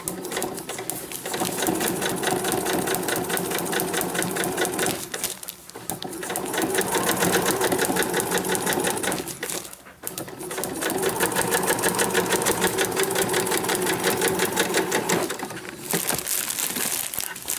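Sewing machine running a long straight stitch on a Christmas journal cover, loud and steady with two brief pauses, alone without talk.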